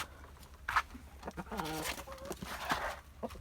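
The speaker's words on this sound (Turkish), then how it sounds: "Burada tavuklarımız böyle." Chickens clucking and squawking softly nearby in a village at night in very cold weather, with scattered short calls and a few louder cackles over quiet outdoor background noise.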